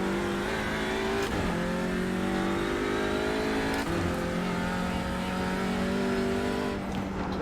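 A front-wheel-drive race car runs an out lap of the Nürburgring in a simulated NLS/VLN qualifying session. The engine drones steadily up close, with a couple of quick gear shifts breaking the rising pitch.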